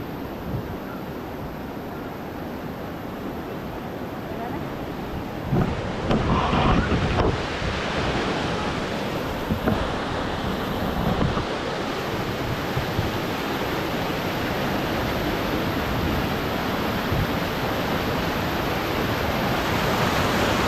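River water rushes steadily for the whole stretch, a loud, dense, continuous roar with wind buffeting the microphone and no talking.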